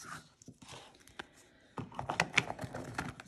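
Rapid crisp riffling of a deck of cards being shuffled, a brief pass then a louder, denser burst of flapping clicks, close by.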